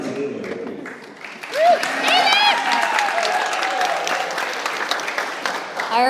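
Wedding reception guests keep clapping for the matron of honor, a full room of steady applause with a few shouted cheers and voices riding over it, continuous to the end.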